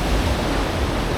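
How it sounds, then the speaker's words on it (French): Ocean waves breaking on a beach in Bali where surfers ride, a loud, steady broadband roar of surf with no distinct individual crashes in this short stretch. "on va avoir des belles vagues"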